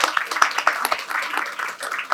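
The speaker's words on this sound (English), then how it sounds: "A round of applause for Lisa" Brief, scattered applause from an event audience welcoming a speaker named Lisa at an arts panel discussion, a few close claps over a thinner patter.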